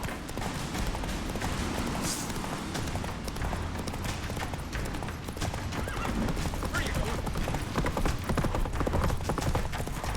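Roach the horse gallops in The Witcher 3 with a fast, continuous clip-clop of hooves and a whinny, all under dense game noise and speaking voices.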